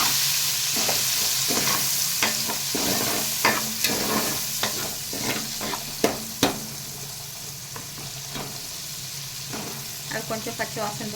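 Onion and green chili stir-frying in a little oil in a pan for a prawn cucumber curry: steady close sizzle with repeated scraping stirs of a spoon against the pan, no talking.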